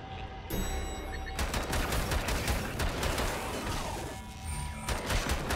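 A turret in Bunker Punks, a classic-style first-person shooter, fires dense, continuous gunfire that roars loudly for several seconds with only brief dips.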